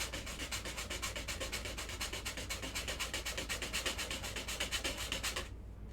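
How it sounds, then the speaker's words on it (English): Steady back-and-forth rasp of 220 grit sandpaper on a Star Wars tank trooper costume armor piece, rapid even strokes close up and alone, stopping abruptly at the end. "So we'll just sand it down a little bit more."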